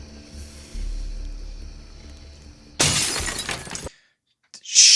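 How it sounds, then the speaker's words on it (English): Window glass smashes loudly in a sudden burst of shattering and falling shards after a quiet stretch of low hum, breaking off into near silence before a short bright crunch of debris at the end. "she loves smashing windows"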